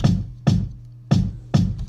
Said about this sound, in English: this first kick I believe is just kind of a punchy kick